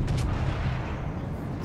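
Main guns of the King George V, a tier 6 battleship in World of Warships Legends, thunder in a heavy, sustained booming rumble that fills the whole moment at close range.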